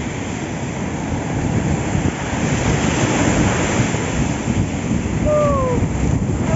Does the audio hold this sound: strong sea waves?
yes